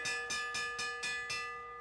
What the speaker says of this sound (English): He's going to hear the bell when he comes around.